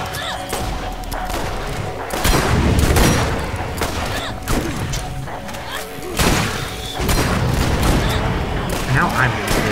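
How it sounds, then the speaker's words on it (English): Shotgun blasts in the video game Borderlands, several heavy booming shots spaced a few seconds apart over dense game noise, with someone talking in between. "Wow, this shotgun like kills all these things in one hit."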